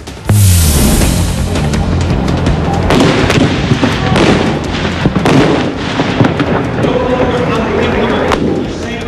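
A loud explosive blast goes off during a reservist emergency drill, followed by a thick rumbling wash of debris and crackling noise that stays heavy for several seconds, with sharp pops scattered through it.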